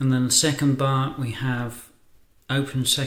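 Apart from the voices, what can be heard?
None of the usual background noises is heard.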